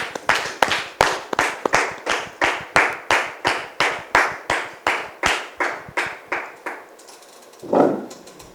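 A television studio audience greets a guest with rhythmic clapping in unison, about two sharp beats per second, loud and steady for several seconds before trailing off, with a brief burst of noise afterward.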